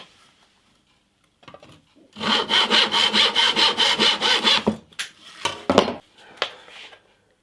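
Rapid back-and-forth saw strokes cut through wood in a guitar-building workshop, a close, loud rhythmic rasp of about a dozen strokes, followed by a few shorter scrapes and knocks.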